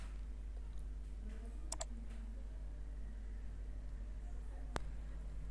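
Faint mouse clicks while working in Déjà Vu X2 translation software on a computer, a couple of sharp isolated clicks against a quiet steady background hum.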